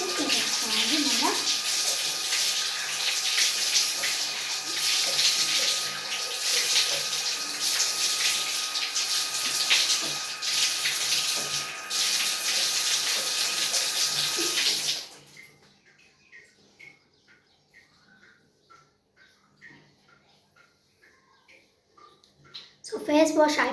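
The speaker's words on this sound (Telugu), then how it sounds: "ఫేస్ వాష్ చేసేసుకోవాలి మళ్ళీ." Water runs loudly from a tap while a face is washed, a steady hissing stream that cuts off partway through, leaving quiet room sounds and faint bird chirps before a final burst of noise.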